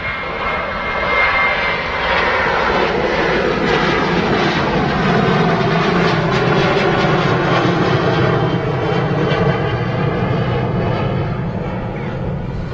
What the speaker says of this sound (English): This Ryanair is off to Genoa.